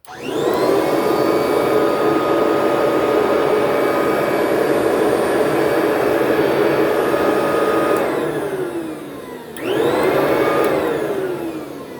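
A Kirby Tradition vacuum cleaner runs with a loud, steady motor whine, dips briefly as if cut off, then surges back to full power.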